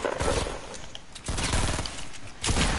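Fortnite gunfire cracks in rapid volleys, loud bursts of shots that come in several clusters separated by brief lulls, with no talking over them.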